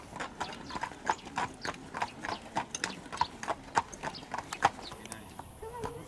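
Hooves of the mounted gendarmes' horses clip-clop on hard ground in a steady walking rhythm, clear and fairly close, with a few people talking over them near the end.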